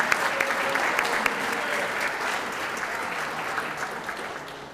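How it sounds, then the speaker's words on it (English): Sustained applause from an audience at the 2021 Rosie Awards, a Wadsworth Chamber of Commerce ceremony, a steady dense clapping wash lasting the whole stretch and tapering slightly at the end. "let's give a round of applause for the Galaxy staff"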